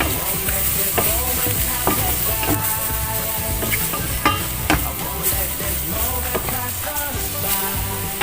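Chicken thighs with oregano and ground pepper are stirred in a frying pan, giving a continuous sizzle broken by frequent scraping and clacking utensil strokes, close and loud.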